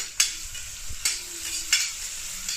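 A large onion fries in a pan for tomato rice, giving a steady close sizzle broken by three sharp scrapes of a stirring spoon at even intervals.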